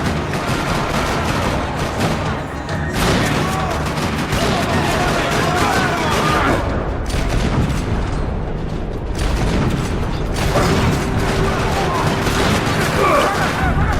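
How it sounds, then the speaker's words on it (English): Gunfire echoes through a parking lot in Max Payne 3, with dense bursts of rapid shots and booms layered over a continuous loud game mix and a spoken voice. "Another parking lot rattling with gunfire."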